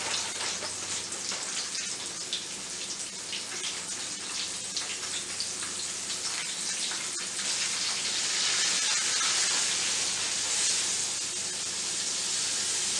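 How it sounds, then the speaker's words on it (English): Steady crackling and spattering of pork chops frying in a pan, a dense hiss that swells slightly louder toward the end, with no talking. "it doesn't take pork chops long to fry at all"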